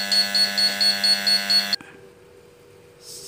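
A gas alarm panel linked to an exhaust fan and fresh-air system sounds a loud, steady pulsing electronic buzzer that beeps in even repeats, then cuts off abruptly and leaves a low background hum.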